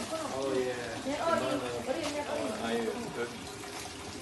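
Water runs steadily through pipes in a constant circulating flow, a continuous low wash heard beneath nearby voices talking throughout.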